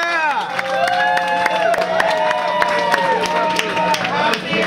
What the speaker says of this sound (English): applause. Give it time.